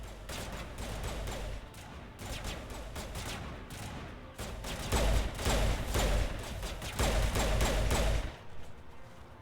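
Repeated bursts of gunfire in the video game Mass Effect, rapid rattling volleys with short pauses between them, some louder and heavier than others.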